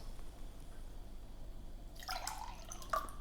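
Drinking water poured into a glass: after a quiet stretch, a splashy, trickling pour begins and runs for about a second, soft and fairly close, with no talking.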